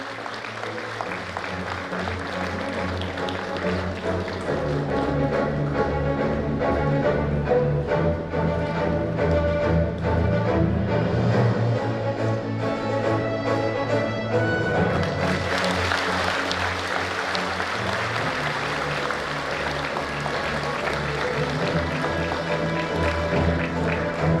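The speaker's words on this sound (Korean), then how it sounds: "환영의 박수 부탁드리겠습니다" Sustained welcoming applause fills the hall at a county governor's inauguration ceremony in Hadong, loud and dense with crowd noise beneath, swelling briefly partway through and continuing steadily to the end.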